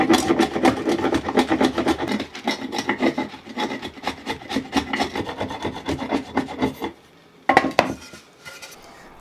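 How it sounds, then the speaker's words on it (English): A chisel pares and scrapes wooden half lap joints cut with a circular saw, giving close, busy rasping and rubbing strokes in an uneven rhythm, then a pause and a last short flurry. "I cut half lap joints with my circular saw and cleaned them up with a chisel."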